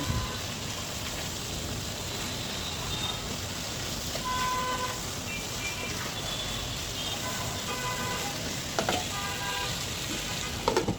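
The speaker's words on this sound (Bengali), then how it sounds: "এগুলোকে ভালো করে নেড়ে চেড়ে নিব" Chicken pieces stirred in a pan with chilli powder, coriander powder, turmeric and salt, giving a steady close sizzle with faint scraping of the spoon throughout.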